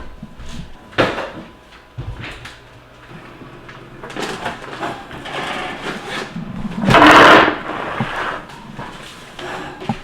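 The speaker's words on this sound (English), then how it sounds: "we will start by pulling bread out of the oven" Bread loaves pulled from a home oven in a farm kitchen: knocks, a wooden thump, and a scraping clatter of pans and racks, with one loud rustling burst near the end, all up close.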